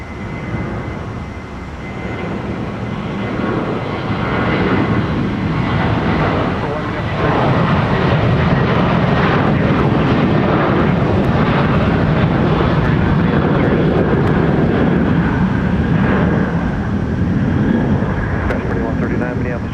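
A jet roars on the runway at Minneapolis–St. Paul Airport, a loud, sustained engine rumble that swells after the first few seconds and then holds steady and near for the rest of the stretch, with no voices over it.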